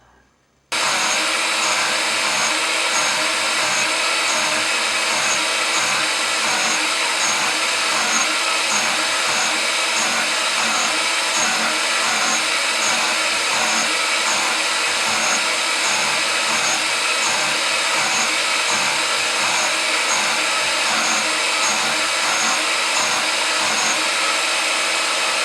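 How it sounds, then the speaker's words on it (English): A grinder wears a metal part down to 30 mm in a workshop, producing one loud, steady, unbroken whine that runs for the whole stretch with no pauses and no talk. "I've got to grind this down to 30mm."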